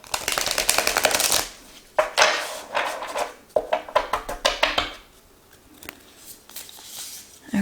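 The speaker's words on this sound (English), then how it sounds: "So let's give this deck a shuffle." A deck of oracle cards is shuffled by hand, giving close riffles, slaps and papery taps in uneven bursts, with a quieter stretch of soft handling toward the end.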